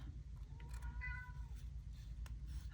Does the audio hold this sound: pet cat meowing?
yes